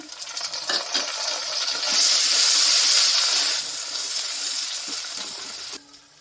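Chopped tomatoes dropped into hot spattering oil, turmeric already in the pan, set off a loud, steady hissing sizzle that swells for a few seconds and then cuts off abruptly near the end.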